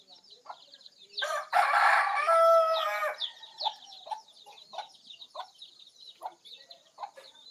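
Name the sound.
rooster crowing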